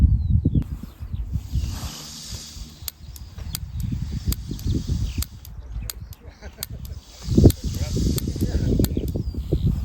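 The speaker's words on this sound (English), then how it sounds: "Not the best of days in terms of wind" Gusty wind outdoors along Hadrian's Wall rumbles and buffets close to the microphone in uneven surges, with a strong gust near the end and a scattering of sharp clicks over the top.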